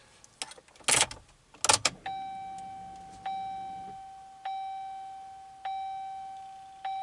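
A few clicks, then a soft electronic chime tone repeats about every second and a quarter, each note fading away, quiet and close, as a Linux-based double-DIN touchscreen car radio powers up, with a chime familiar from Dodge Challengers and Chargers.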